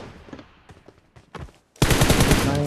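Gunfire in the video game PUBG Mobile: a few scattered faint shots, then a loud, rapid burst of automatic fire near the end, with no talking.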